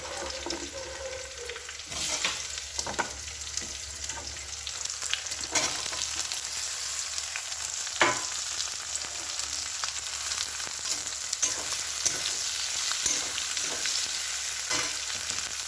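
Onions fry in hot oil with garlic in a steady, dense sizzle, with a louder burst as they go in and intermittent stirring scrapes and clicks against the pan. Nobody speaks.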